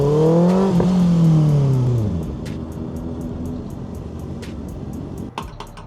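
A Suzuki Hayabusa or Kawasaki ZX6R sport motorcycle engine revs loudly up and down, then settles into a quieter idle with a few sharp clicks near the end.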